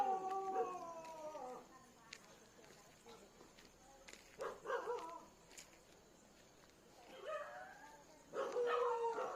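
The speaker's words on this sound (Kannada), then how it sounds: "ನಾಯಿ ಒದ್ರಾಕುಂತಾವ" Dogs howl in the distance in long, wavering cries that rise and fall, with a few yips and barks mixed in over a quiet night background.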